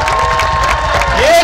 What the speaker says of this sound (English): Give Juice a round of applause.